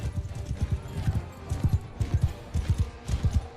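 A horse gallops in the Bannerlord video game, its hooves thudding in quick, repeated clusters up close, with a faint voice in the background.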